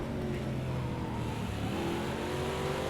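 Race car engine in Project Cars 2, racing at Bathurst, revs up steadily under acceleration as a loud, continuous mid-pitched drone with rising tones, close and without talk.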